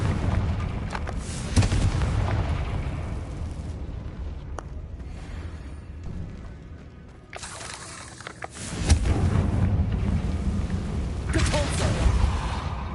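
Confringo blasting spells go off in a Harry Potter video game, heavy booming explosions with whooshing bursts that swell, fade into a rumbling lull, then erupt again loudly.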